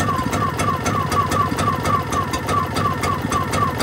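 A Powersmart 1500 watt inverter gas generator runs with a steady, loud engine drone and a regular ticking beat, running alone with no talk.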